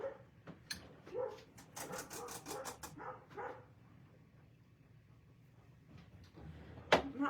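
A dog barks indoors in a home, a quick run of sharp, loud barks early on and then fainter whimpers and scattered noises, with a sudden louder bark near the end.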